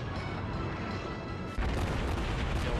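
Naval guns firing in World of Warships, a tier 3 warship battle; a continuous roaring rumble of cannon fire that jumps louder and denser partway through, with no talk over it.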